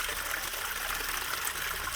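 Water pours steadily from the outlet of a newly built garden pond and spills down into a cascade, a continuous broadband rushing and trickling close by, with no voices over it.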